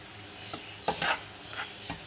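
Onions sautéing gently over a low flame for chicken keema kachori, a soft continuous sizzle broken by a few scraping stirs of the spoon at close range.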